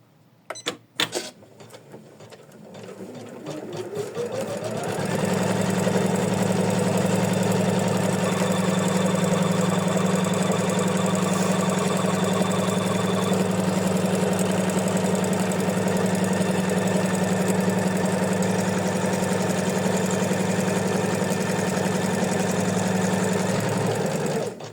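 An embroidery machine stitches a coaster design onto fabric in a hoop, starting with a few clicks, then ramping up to a loud, steady mechanical whirring hum that runs on without pause, close by and without speech.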